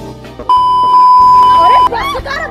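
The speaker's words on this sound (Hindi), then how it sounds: "क्योंकि मैंने बीप साउंड लगाया था" A steady electronic censor beep tone covers a swear word in the middle of a Hindi speaker's talk, loud and sustained for over a second.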